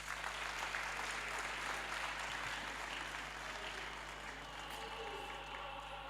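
An indoor audience applauding at a memorial lecture, sustained dense clapping from many people at an even level, with a steady electrical hum underneath.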